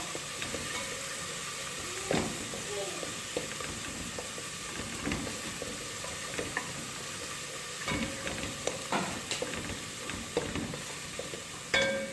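Tomatoes fry in a pan with a steady hiss and sizzle, broken by scattered pops and the scrape of stirring, moderately close with no talk.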